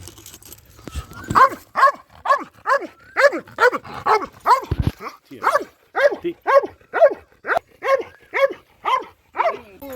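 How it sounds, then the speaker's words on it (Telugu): Several pet dogs barking in quick, repeated bursts at a cobra, loud and close, with a few yelps mixed in and a steady rhythm of barks throughout. "లూసీ రిక్కీ అనే డాగ్స్ ఉన్నాయి"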